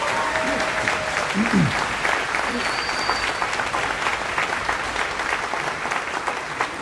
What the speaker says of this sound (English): Another applause. Another applause.